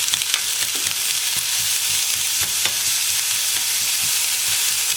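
Red onions frying in a hot pan for an onion confit, with a steady bright sizzle and scattered stirring scrapes and clicks, close and continuous.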